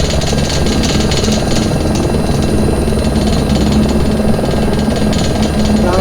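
Loud, steady rotor and turbine roar from an Agusta-Bell AB412 helicopter in its fire attack variant, heard in flight from close range, a continuous dense drone with rhythmic blade chop and no talk over it.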